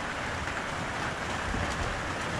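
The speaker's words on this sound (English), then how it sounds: "Pouring rain." Pouring rain outside a cabin, a steady dense hiss of heavy rainfall that holds evenly loud throughout with no talk.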